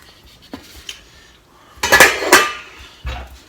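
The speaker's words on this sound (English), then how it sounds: "we add the shrimp to the sauce" Raw shrimp tipped into a pot of simmering spicy diablo sauce, giving a few sharp clattering bursts of metal and pot noise against a quiet background, with one final clunk at the end.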